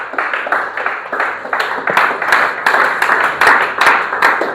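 A prayer-retreat congregation claps in a steady, rhythmic beat that runs without pause, loud and close, with faint voices mixed beneath the clapping.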